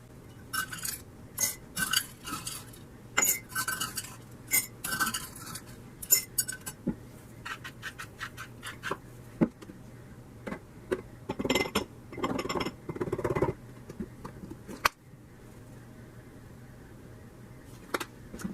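Glass canning jars for pressure-canned pinto beans are filled and capped, with scattered clinks, taps and scraping of glass and utensils at an uneven pace over a faint steady hum, close and without speech.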